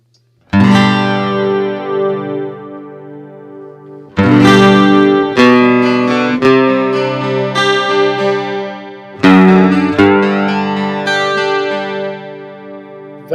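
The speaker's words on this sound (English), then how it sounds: "Let's add a little bit of chorus to this bad boy." Joytar acoustic guitar chords ring out loudly and are left to sustain, with a shimmering chorus effect; three strums in all, no voices.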